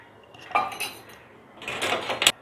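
A kadai set down on a home kitchen stove, giving two separate bursts of close metallic clanking and clatter against a quiet background.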